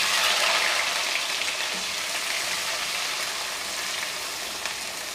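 Large onion sautéing in a pan with cumin and mustard seeds, a steady broadband sizzle that stays close and fairly loud throughout, easing slightly toward the end, with no voices.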